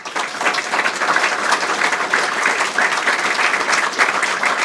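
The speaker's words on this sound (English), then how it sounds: "Not too many claps" Audience applause fills a room at a careers-in-investment event, dense and steady clapping at full strength throughout with no voices over it.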